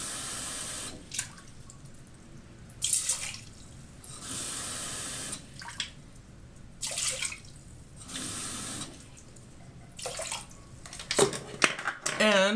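Water is poured into a small pot holding rice, giving uneven bursts of splashing and running water with quieter gaps between them, ending in a short voiced sound.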